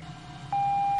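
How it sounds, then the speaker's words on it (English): Mary's Arcade, a FNAF-inspired horror game, sounds a buzzer beep halfway through: a steady, loud electronic tone that cuts in over a low hum and holds to the end. "It may not be a bad idea to use the buzzer all around the building instead of just right next to the office."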